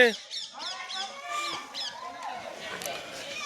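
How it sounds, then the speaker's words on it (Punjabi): Roosters roam a rural yard at a dera in Punjab, giving short honking calls close by, mixed with people talking. "ਕੁੱਕੜ ਫਿਰਦੇ ਕੁੱਕੜ ਇਹ ਵੀ ਆਪਣੇ ਹੀ ਆ"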